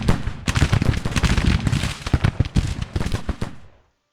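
A ragged musket volley in a strategy game battle: many loud, close shots cracking in quick succession for several seconds, then cutting to silence.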